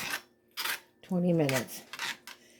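Metal utensil scraping and clinking against a good skillet while food cooks for a Salisbury steak meal with peppers and onions, in short separate bursts with a voice speaking in between.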